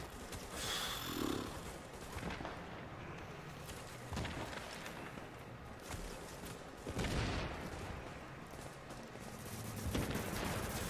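Rapid gunfire from The Division video game while the player character sprints, bursts of shots crackling continuously over busy game noise, with louder volleys around the middle and end.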